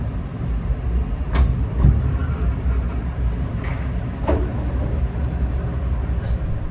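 KA Singasari train rolling into Caruban station in East Java, heard as a steady low rumble of wheels and carriage noise with a few brief squeaks and clanks, no voices.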